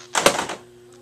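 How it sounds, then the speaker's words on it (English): A computer keyboard clatters in a brief burst of several quick, close clacks lasting about half a second, then a quiet tail. "That sound was my keyboard."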